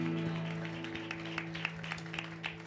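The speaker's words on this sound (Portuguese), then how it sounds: "Aplauda ao Senhor" Church congregation at a Baptist weekly service applauds the Lord in a light, scattered round of claps over a steady sustained organ or keyboard tone.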